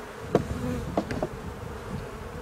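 Honeybees buzz around an opened hive during a spring inspection, with a few brief, fairly quiet buzzing passes as individual bees fly near.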